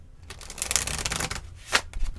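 Tarot cards being shuffled by hand, a dense run of crisp riffling clicks and flutters with a brief burst near the end, close and fairly quiet.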